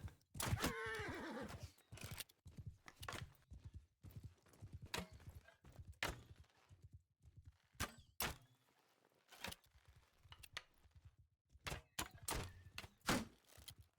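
A horse in the video game Bannerlord whinnies loudly near the start, followed by repeated hoof clops and heavy thuds scattered throughout.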